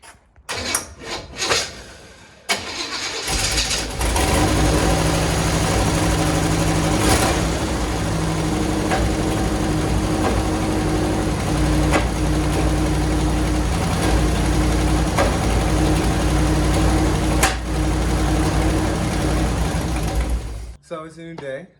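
A 1963 Chevy Impala engine idles during timing, a loud, steady low rumble that starts after a few seconds of clatter and holds for most of the clip before cutting off near the end.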